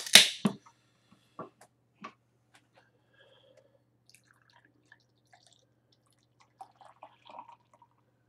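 A can of Olde English 800 malt liquor cracks open with a sharp fizzing snap, followed by a few faint drips and splashes and soft liquid sounds of pouring in an otherwise quiet room.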